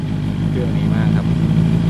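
Close up, a 2019-registered Honda CB650F motorcycle engine runs at a steady idle, a loud, even low rumble holding constant throughout.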